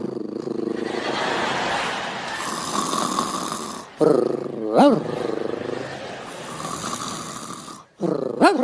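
A comedian imitates a little dog growling on the floor, producing rough, snarling growls in bursts broken by short gaps, with rising yelps, loud and close before a live audience.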